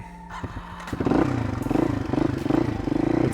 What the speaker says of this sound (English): warm up my bike again